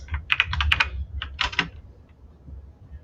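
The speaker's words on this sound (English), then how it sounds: "then type whatever question you want to type" Computer keyboard keys tapped in a few quick bursts, close and fairly clear, then trailing off into quiet room tone.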